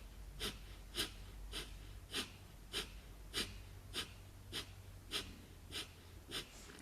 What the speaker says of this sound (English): you take a deep breath in, and then keeping the ribs open, you pump your navel point.